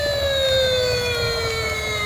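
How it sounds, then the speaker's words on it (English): A red knockoff toy fire truck siren sounds loud and close, its electronic tone sliding slowly downward in pitch over a constant low buzzy drone. "Lights up very good, that siren."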